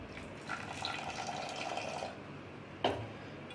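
Water is poured into a poha mixture for pakoras in a bowl for about a second and a half, a soft trickling splash, followed by a couple of light clinks.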